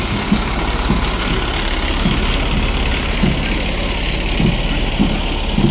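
Fire department rescue truck rolling past in an anniversary parade, a steady low diesel engine rumble with a faint rhythmic throb, fairly loud and continuous throughout, without clear talk over it.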